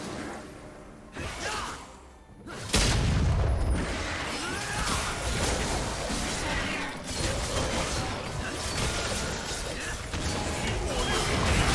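A turret in League of Legends collapses under attack: a loud crash and whoosh lead into a dense rumbling of debris and mechanical clatter that lasts several seconds, with game effects layered throughout.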